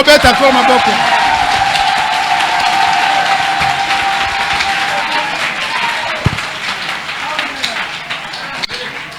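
Church congregation at a tabernacle service clapping and cheering in praise of the Lord, steady applause filling the room with voices mixed in, loud at first and gradually thinning toward the end.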